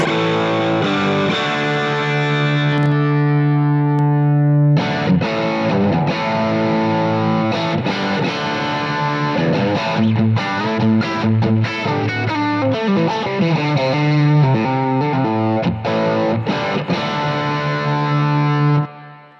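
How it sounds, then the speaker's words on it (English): Electric guitar through an overdrive pedal, a long sustained chord ringing out, then a brief drop before busy driven riffs and single-note runs continue loudly, with no talk over the playing. "So this is the overdrive sound."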